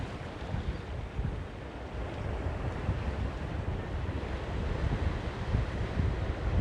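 Steady breezy wind with surf washing at the harbour of Gordon's Bay in the Western Cape on a warm day, a continuous broadband rush with wind buffeting the microphone throughout.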